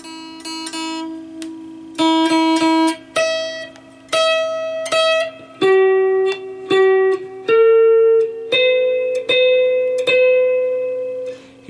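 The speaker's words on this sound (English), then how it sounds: "It can actually make the sound of the string oscillate." Electric guitar string on the neck pickup, its strong magnet pulling the string into oscillation, giving sustained plucked notes in a slow sequence that ring and swell with a wavering, pulsing tone; no talking.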